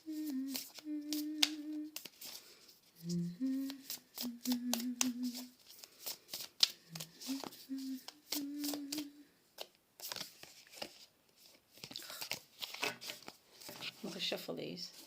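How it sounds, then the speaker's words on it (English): A Goddess Tarot deck by Colette Baron Reid shuffled by hand, with repeated close, crisp riffles and papery slaps in short bursts, interleaved with someone speaking. "I'm going to shuffle these."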